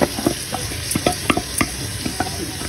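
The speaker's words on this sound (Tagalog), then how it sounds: "ilagay na po natin ang ating bigas" Rice is stirred into sizzling garlic, onion and ginger for lugaw, with a steady close frying hiss broken by repeated scraping and clinking of a spoon against the pan, and no talking.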